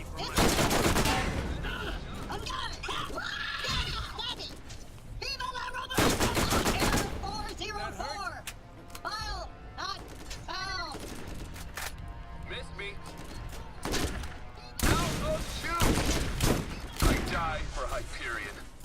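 Repeated bursts of powerful gunfire from a fire-elemental weapon in the Borderlands shooter, loud rapid volleys alternating with game character voices and someone talking over the action.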